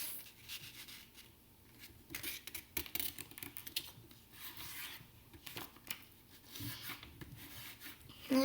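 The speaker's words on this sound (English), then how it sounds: "So, first of all, we're just gonna fold this in half." Paper being folded in half for an origami wallet, a steady soft rubbing and creasing rasp with short louder scrapes, close up and with no talking.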